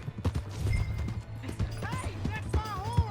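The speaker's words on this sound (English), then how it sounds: "Hey, that's my horse!" Horse hooves clip-clopping in the video game Red Dead Redemption 2, a quick run of close hoof taps under excited shouting voices, with brief whinny-like tones.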